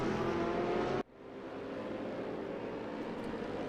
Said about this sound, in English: the grumble of that V8 is one of the most incredible engine sounds